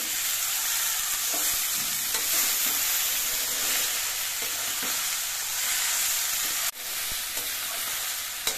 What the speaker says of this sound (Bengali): লাল শাকটা দিয়েও বেশ ভালো করে নেড়ে চেড়ে মিশিয়ে নিতে হবে।